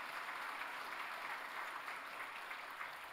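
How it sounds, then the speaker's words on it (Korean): Church congregation applauding after children are proclaimed baptized members during a Sunday service, steady dense clapping from a crowd, fairly faint and distant throughout. "박수로 축하해 주시기 바랍니다"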